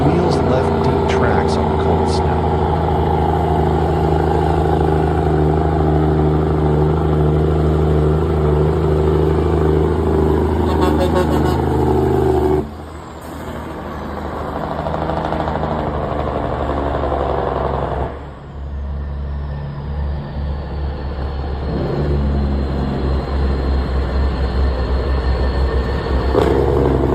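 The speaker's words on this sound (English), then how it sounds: "the roar of the engine, the image of a tractor loaded with logs running through the snow-covered road" A logging truck loaded with timber on a snowy forest road gives a heavy, sustained engine roar with a deep droning rumble. It dips briefly twice, then returns, with a faint whine near the end.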